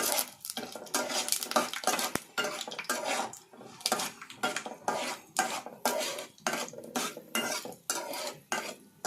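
A ladle scrapes and stirs in a hot pan, close and continuous, with chana dal sizzling and crackling in hot tempering underneath the clatter.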